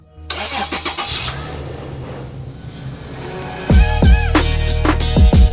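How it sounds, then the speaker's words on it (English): A Toyota FJ Cruiser 4x4 engine cranks and catches, then settles into a loud, steady idle nearby, with a few metallic clicks before it starts. "I do know it has a powerful engine. Listen to this."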